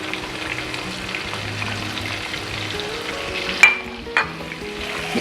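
Onions sizzle and crackle steadily in a hot pan with garlic and cumin while cooking fried daal mash, with a couple of sharp clinks partway through.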